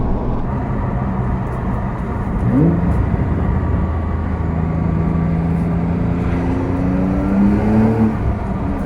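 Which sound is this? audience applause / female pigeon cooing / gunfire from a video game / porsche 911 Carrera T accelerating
porsche 911 Carrera T accelerating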